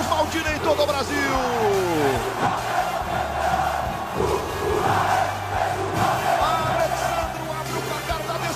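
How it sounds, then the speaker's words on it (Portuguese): Vasco fans roar in the stadium after a goal in a 2011 Copa do Brasil final against Coritiba, a dense continuous crowd swell beneath an excited commentator's voice. "Faz a festa a torcida do Vasco."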